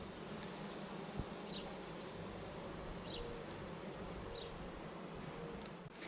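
Honeybees swarming around hives during a Pennsylvania state inspection, a dense continuous buzz of many insects close by, with a few louder bees passing near the microphone and no talking.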